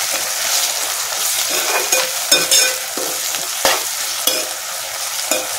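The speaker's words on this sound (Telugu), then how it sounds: "చూడండి, ఉల్లిపాయలు ఎలా వేగినాయి కదా." Onions and tomatoes fry in a pan for a fish curry, with a continuous loud sizzle and a spoon stirring and scraping against the pan at intervals.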